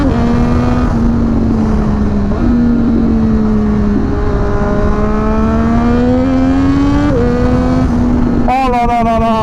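A Triumph Daytona 765 Moto2 motorcycle engine rises and falls in loud, close revs, its pitch climbing through repeated quickshifter gear changes, with a brief rapid stutter at the end.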